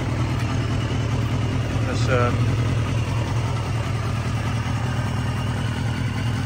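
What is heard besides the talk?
Honda CBR250R motorcycle engine idling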